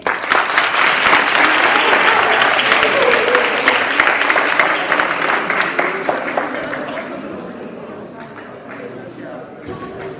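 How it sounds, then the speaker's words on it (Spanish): An audience gives loud, sustained applause to third-year secondary school students from a rap workshop. The clapping stays dense for several seconds, then thins and fades toward the end, with voices mixed in. "un fort aplaudiment per a ells"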